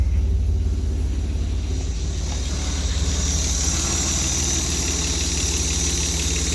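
A cold Austin Healey 3000 with a 3-litre cast-iron straight-six idles steadily nearby, a low, even rumble with a constant throb and no talking.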